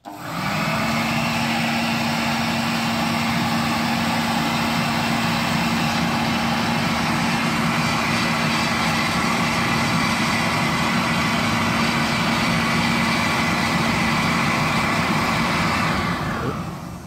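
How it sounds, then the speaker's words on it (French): A leaf blower blasts air into the base of a campfire, giving a loud, steady droning whine that holds unbroken for about seventeen seconds before cutting off at the end. "Un souffleur qui vient directement souffler au fond du feu."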